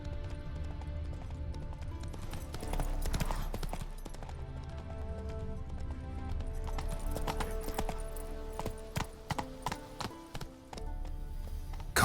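Horse hooves clip-clop on a road in the Witcher 3 video game, a steady, close trotting rhythm with occasional sharper hoof strikes.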